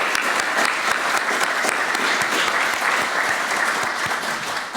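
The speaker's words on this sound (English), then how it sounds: "So I would like to do a round of applause for the families of the entrepreneurs." An audience at a business startup awards ceremony breaks into sustained applause, a dense, loud wash of many hands clapping evenly for several seconds, filling the hall without pause.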